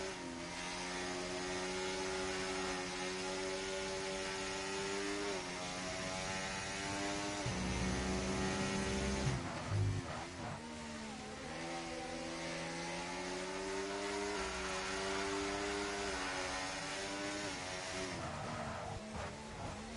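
Formula 1 race cars from a racing video game at the Spanish track, a continuous high-pitched engine whine with shifting revs and harmonics, loud and steady throughout, with a brief lower rumble midway and no talk.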